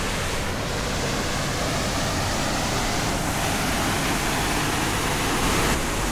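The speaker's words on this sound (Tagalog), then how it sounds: "yung second waterfall" A waterfall beside a hiking trail on Mt. Kasahingan roars in a dense, constant rush of water, loud and near, with no voices over it.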